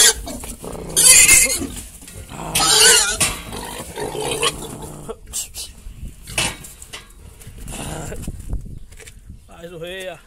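Pigs in a slaughterhouse pigsty in Lajedo, loud squeals and grunts in bursts, mixed with people talking and other barn noise, with a high squeal near the end.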